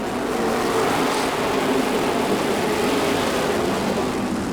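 Race cars accelerate on a dirt track at a race restart, their engines forming a dense, steady roar throughout.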